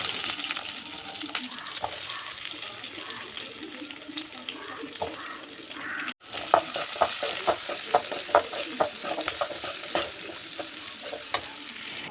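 Chopped onions sizzle and crackle in hot oil, with a brief pause before a louder burst of frying and stirring clatter, close and continuous.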